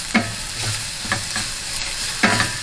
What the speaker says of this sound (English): Frying away quite nicely there.